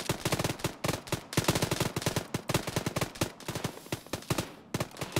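Rapid automatic gunfire in Arma 3, dense bursts of sharp shots in quick succession, loud and close, with brief pauses between volleys.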